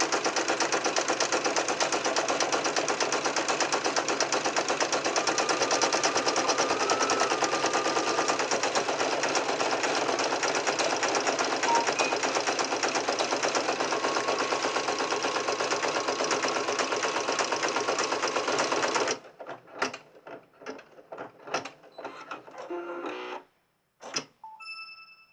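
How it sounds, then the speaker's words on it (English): A sewing machine stitches down a pocket on a hippo crayon holder with a dense, continuous mechanical rattle. After about nineteen seconds it stops abruptly, leaving sparse clicks and handling noises. "It's going over, it's stitching down the pocket."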